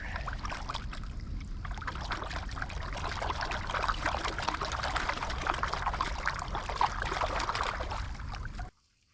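A gold pan of busted-up bedrock material sloshed in water outdoors, a steady swishing wash that runs continuously before stopping abruptly near the end, with no talking.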